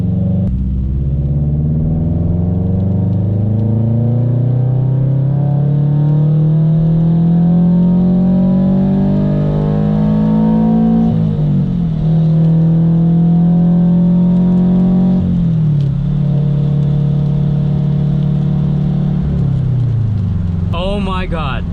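A supercharged Subaru BRZ pulls hard at full throttle through the gears, its engine note rising steadily in a loud, close in-cabin roar, dropping sharply at each shift before climbing again.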